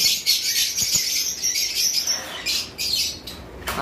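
Cockatiels from breeding pairs chirp and whistle in shrill, overlapping bursts, close and fairly loud, with no talking.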